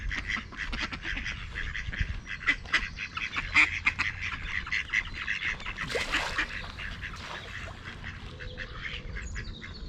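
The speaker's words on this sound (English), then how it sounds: "I was getting disturbed by the ducks" Ducks quacking repeatedly outdoors in a quiet open spot, a dense, steady chorus of overlapping calls with a brief louder burst midway, no talking.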